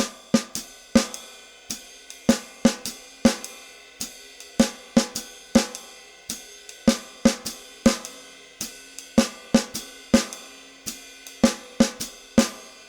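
A steady drum groove with sharp, crisp snare hits played over a repeating ride cymbal pattern, moderately loud and close, with no voices.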